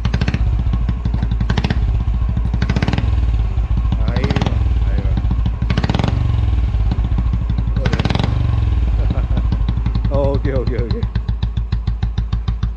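Vintage Royal Enfield Bullet with a double silencer idles with a deep, bassy, steady thump, revving in a few swells, close and loud while someone speaks briefly over it.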